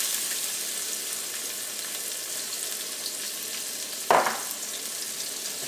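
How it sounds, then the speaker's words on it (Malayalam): Ginger and garlic frying in hot vegetable oil make a steady, close hiss, broken near the end by a short, louder burst of crackling before settling back to a constant sizzle. "ഈ ചൂടായ ഓയിലിലേക്ക് നമുക്ക് ഏറ്റവും ആദ്യം തന്നെ നമുക്ക് ഇഞ്ചിയും വെളുത്തുള്ളിയും ചേർക്കാം"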